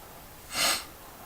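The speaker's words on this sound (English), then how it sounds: "so you all have to excuse me for my non-professional sniffling in the video" A single short sniffle from someone with a head cold, close and fairly soft, lasting a fraction of a second against quiet background.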